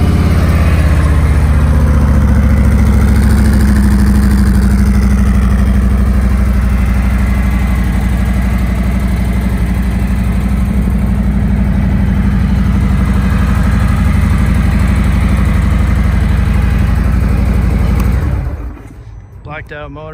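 A 2020 Harley-Davidson Street Glide Special with a Milwaukee 114 engine idles loudly and close, a deep rumbling throb that runs steadily for several seconds before cutting off abruptly.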